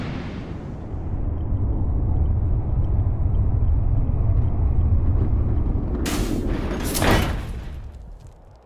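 Rocket sled blast-off at 150 miles per hour, a loud, sustained low roar filling the clip, with a sharp hissing burst near the end before the rumble fades.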